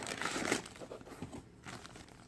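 Plastic bag holding a vintage tarot deck crinkles and rustles as it is opened, a close, busy burst of crackling that eases off and then picks up again briefly.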